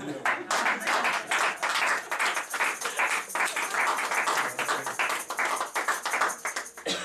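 A church congregation at a Sunday service claps loudly to acclaim God, dense rhythmic clapping close and sustained throughout with no pauses.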